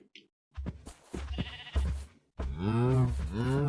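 Sheep bleat in the Minecraft video game, several wavering bleats closely mixed with a person talking excitedly, the last longer bleats coming clearly and near.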